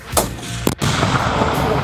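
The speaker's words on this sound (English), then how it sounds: "A sudden explosion occurred in this forest." A sudden explosive blast goes off in a forest during heavy tree felling: two sharp, loud bangs in quick succession, then a sustained roaring rumble that fills the rest of the moment.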